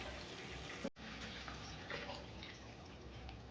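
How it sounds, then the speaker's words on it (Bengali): Water poured from a bowl into a cooking pot of spiced lemon pepper chicken, a steady, fairly loud gushing splash filling the whole moment after a brief knock, with no voices. "1 বাটি জল দিলাম।"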